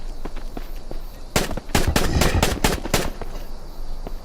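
A rapid burst of gunfire rattles out in the video game Island Survival, about eight sharp shots in quick succession over a constant background hum.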